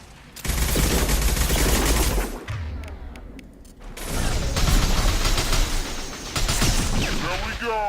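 Shotgun fire in Mass Effect 2 amid a loud combat scene, heavy blasts and mechanical clatter, with a quieter pause between bursts and a voice shouting over the din.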